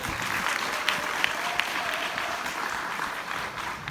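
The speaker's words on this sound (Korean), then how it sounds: "박수 한번 부탁드릴게요" An audience at a USANA company event breaks into sustained applause, a dense, even clatter of many hands with a few sharper individual claps standing out, continuing steadily throughout.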